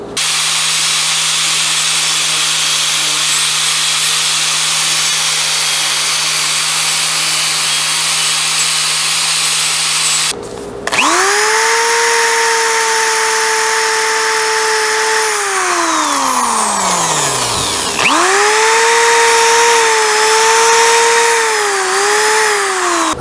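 Power carving tool shaping wood to restore a missing table part: a steady high-pitched whine for ten seconds, a brief stop, then the motor spins up again with pitch rising and falling as it bites into the wood.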